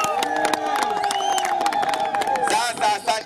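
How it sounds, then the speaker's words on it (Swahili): A crowd at an outdoor political rally in Tanzania claps and cheers loudly, with whoops and shouting voices layered over steady clapping and rising into a burst of cheering near the end. "Biga makofi, biga makofi."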